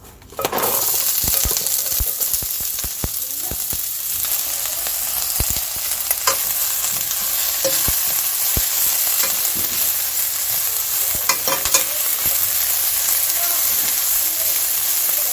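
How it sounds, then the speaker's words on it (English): Onions sizzle and crackle steadily in hot oil in a pan, with a constant hiss and scattered pops and clicks throughout. "Now I have a frying pan with some oil that's heated up, and I'm gonna add in the onions."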